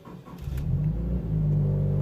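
A 2012 Toyota FT86 2.0 automatic sports car engine starts, idles and builds into a deep, steady exhaust rumble, close up and continuous, with no voices.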